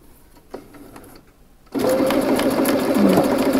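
After a quiet pause with a few faint handling taps, a sewing machine starts stitching jersey knit fabric, running in a fast, even, loud mechanical whir up close for a couple of seconds.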